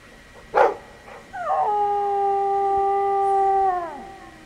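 A dog howls once in the Dragon Age II fantasy video game, a single sustained, steady howl near and loud that trails off after a short sharp yelp.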